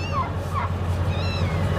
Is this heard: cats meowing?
yes